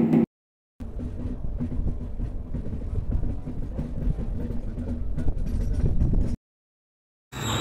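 The Yesvanthpur–Mangalore Express runs at slow speed through dense forest past Hassan Road, a steady rumbling clatter of wheels and carriages that fills most of the stretch, with brief silent breaks at the start and end.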